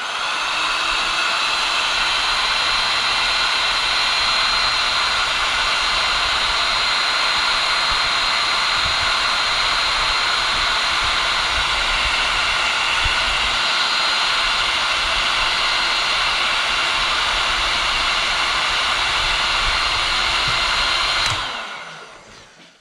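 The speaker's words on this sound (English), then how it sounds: "Heat treat gun works wonders." A heat gun blowing hot air during hobby soldering and pin repair work, a loud, steady, close rushing roar that holds evenly for about twenty seconds before cutting off and fading out.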